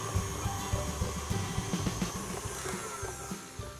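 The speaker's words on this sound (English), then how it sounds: "while your mixer is doing its job right" An electric mixer beats butter for a Lapis Surabaya layer cake, making a steady motor whir with a fast, regular rhythmic knocking underneath, fairly close and with no talk.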